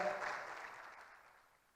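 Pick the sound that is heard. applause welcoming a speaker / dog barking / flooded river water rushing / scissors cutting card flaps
applause welcoming a speaker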